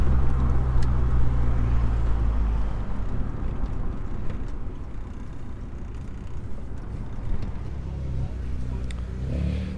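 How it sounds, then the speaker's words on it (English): A tuned 280+ kW big-turbo 1.8T VW Polo GTI with a DSG gearbox roars on a dyno at a workshop, a loud, sustained, rough engine drone with audible drops in pitch as gears shift, close and continuous. "Sounds so nice with the DSG shifts"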